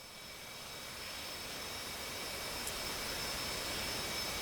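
A jet engine roars steadily in the DCS World flight simulator, producing a loud, even, broadband rush with a faint high whine that swells slightly and holds without pause.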